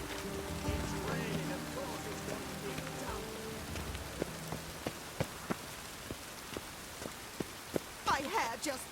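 Rain in The Witcher 3 game world, a soft patter under low tonal music and ambience, with scattered distinct drops and splashes growing more noticeable toward the end.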